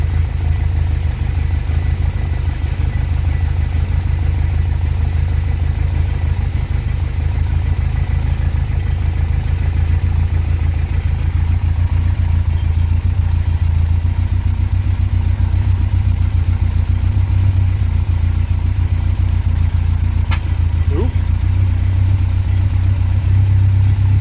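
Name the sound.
Talbot Horizon car engine idling with motorcycle carburettors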